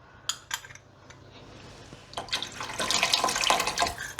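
Tap water runs into an emptied tomato paste jar in a kitchen, starting with a few light clinks, then swelling into a hissing, splashing stream as the jar fills.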